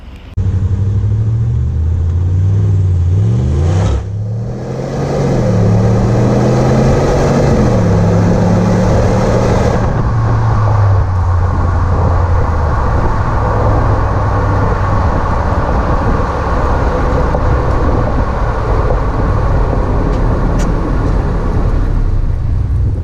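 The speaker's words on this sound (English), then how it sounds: "do some 0 to 60 pulls for you with the stock exhaust so you guys can hear what it sounds like bone stock" A bone-stock 2019 RAM 1500 pickup on its factory exhaust pulls hard from a stop, engine tone climbing and dropping through gear changes before settling into a steady, loud drone of road and exhaust noise; no one speaks.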